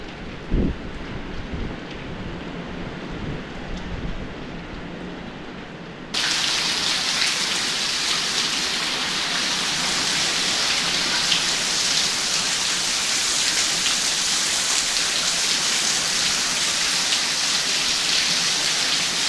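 Heavy monsoon rain pours down steadily. It starts softer, then swells abruptly into a loud, dense hiss, with a faint thump early on.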